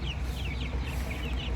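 Rhode Island Red chickens in a backyard flock cluck and murmur continuously, several birds close by with short rising calls over a low, busy background of fowl chatter.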